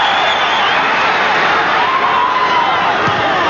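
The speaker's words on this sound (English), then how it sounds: "Naturally that brings the roar from the crowd." Rugby league crowd at a 1988 Panasonic Cup match between Penrith and Brisbane, a dense sustained roar filling the stadium with no break.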